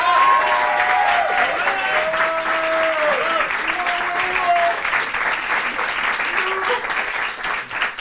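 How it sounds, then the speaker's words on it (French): A theatre audience applauds loudly for several seconds, a dense continuous clapping with voices and shouts rising through it. "Et on applaudit très fort le générique de Anne Bouvet."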